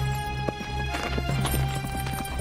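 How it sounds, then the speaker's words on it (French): Horse hooves clip-clopping close by with a brief whinny, over a steady low hum. "Garde les chevaux, Énaque."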